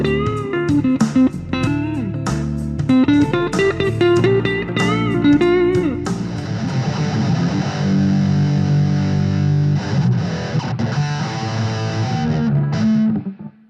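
Electric guitar played through a Positive Grid Spark amp with a distorted, effects-laden tone, opening with choppy chords and riffs before settling into sustained, saturated chords and lead notes; loud, close and without talk.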